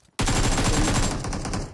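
Rapid automatic gunfire in the PUBG Mobile video game, a dense continuous burst lasting well over a second after a brief quiet start, loud and close with no talk over it.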